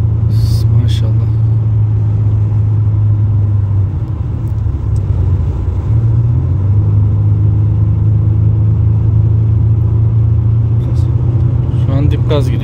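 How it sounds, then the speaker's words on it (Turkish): Mercedes-Benz W221 S350 4MATIC accelerating at full throttle after transmission repair, a loud steady engine drone and road rumble heard from inside the car, with people talking over it. "Şu an dip gaz gidiyor. 4000 devre gidiyorsun."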